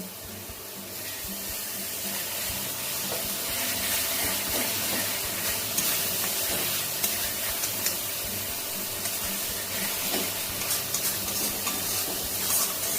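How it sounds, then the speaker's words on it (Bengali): Spice paste with Kashmiri chili powder frying and being stirred in a pan for a Pabda fish curry, a steady close sizzle with scraping stirs running throughout. "মশলাটা খুব ভালো করে কষে নেব"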